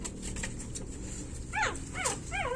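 A stray-mix puppy a few days into a new home whimpers and yelps in a few rising cries, close by over a steady background hum.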